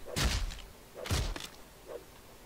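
In the video game Rust, a hatchet chops wood with two heavy, thudding strikes close together and a fainter third hit, each with a low impact thump.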